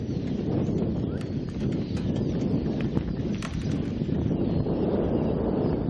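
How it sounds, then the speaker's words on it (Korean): A donkey plods along in strong, gusting wind, its hooves giving faint irregular clip-clops beneath heavy, constant wind roar and microphone buffeting. "이곳엔 지금 소년과 당나귀 그리고 세찬 바람뿐입니다"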